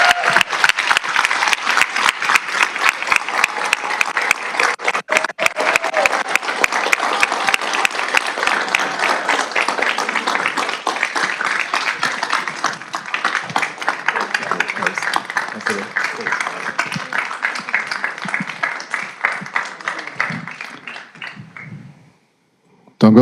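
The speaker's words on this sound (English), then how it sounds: "Let's give him a round of applause." Audience applause at a Montebello city council meeting, a long, sustained burst of many people clapping in a chamber, steady and fairly loud for about twenty seconds before thinning out and stopping.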